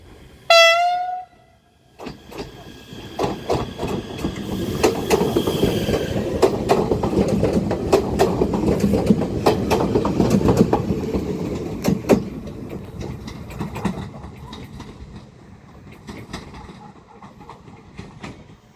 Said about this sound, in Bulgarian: Ето го, влака заминава за София.